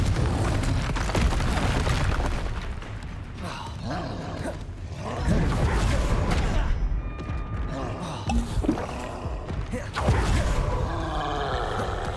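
The Confringo explosion spell goes off in Hogwarts Legacy amid a dense mix of game effects: rumbling booms, creaks and grinding impacts that come in waves. Game music and voices can be heard in the background.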